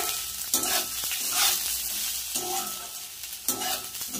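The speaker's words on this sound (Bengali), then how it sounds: "তো এই দিয়ে উচ্ছে কিন্তু প্রায় ভাজা হয়ে এসছে।" Bitter gourd frying in a pan, headed for a crisp fry with pumpkin and aubergine: a steady close sizzle broken by several sharp scraping stirs of a spatula, with no voices.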